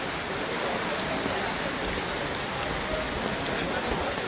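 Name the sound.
heavy rain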